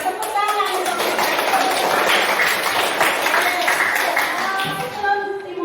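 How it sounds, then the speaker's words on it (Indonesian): Primary school class clapping together in a classroom, dense continuous applause, loud and close, with children's voices chattering over it. "tepuk tangan untuk kita"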